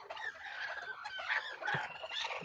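A hen with fowlpox clucks close by in a rural home yard, short irregular clucks and squawky calls running steadily across the moment with no talk.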